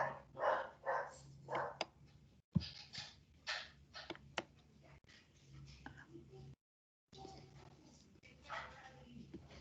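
A dog barks in short bursts in the background during a classroom lecture, the sharp barks cutting in under a person speaking.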